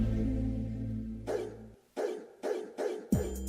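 A dog barks four times in a radio advert for a dog and cat grooming salon, each sharp bark separated by a short gap, coming after a low musical sting.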